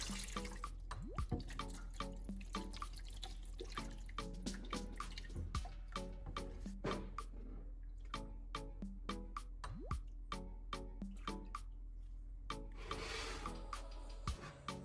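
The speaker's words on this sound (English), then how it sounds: "hold the battery firmly, shake it hard, and pour the distilled water out" Distilled water sloshes and drips steadily as it is shaken and poured out of an old car battery, with many small splashes and trickles close by, continuing for the whole stretch with no talking.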